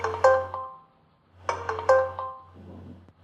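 A mobile device sounds two separate bright beeping alert chimes from an alert box, each a short ringing tone burst with a low hum beneath, separated by a pause; no speech.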